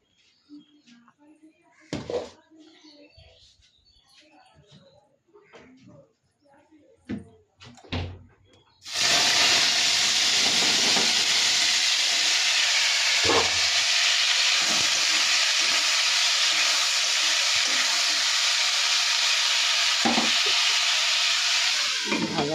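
Hot oil hissing loudly in a wok as cut cauliflower and potato go in, a sudden steady roar of frying that starts partway through after quieter kitchen knocks and movement.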